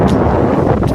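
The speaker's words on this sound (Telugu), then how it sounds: "అది అంతలా వచ్చింది ఫ్రెండ్స్ గాలి, మామూలు రాలేదు" Strong gusting wind at Polavaram buffets the microphone in a loud, constant low roar that fills the whole moment with no break.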